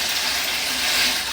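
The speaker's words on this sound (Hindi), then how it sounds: "जी यार इसमें पानी डाल दिए," Water is poured into a cooking pot for boiling macaroni, a steady, full, hissing splash from start to finish, close and fairly loud.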